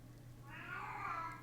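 A pet cat somewhere downstairs lets out one drawn-out, agitated meow that rises and holds, faint and distant over a quiet room hum.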